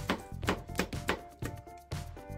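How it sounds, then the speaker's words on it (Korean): Knife slicing a Cheongyang chili pepper on a cutting board, a run of about eight soft close thunks at a steady, slightly uneven pace, quiet and alone. "청양고추 하나 어수 썰어주세요"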